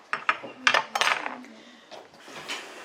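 Metal cutlery and dishes clink and clatter in a few sharp, close handling sounds while boerewors sausage is served, with people talking nearby.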